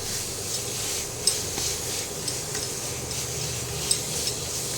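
A spoon stirs jaggery batasha into a fruit sandesh mixture in a pan over the heat, a steady close scraping and faint sizzle with a few sharper clinks against the pan.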